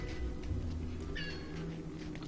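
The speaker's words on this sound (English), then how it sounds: "It sounded like a cat." In the video game Fable Anniversary, a cat meows once, a short, clear mew over a steady wash of in-game ambience and low background music.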